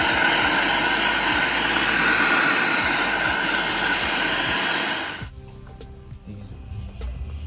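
Welding on a Honda Accord spindle, a loud continuous hissing, crackling arc for about five seconds that then cuts off abruptly, leaving quiet shop noise.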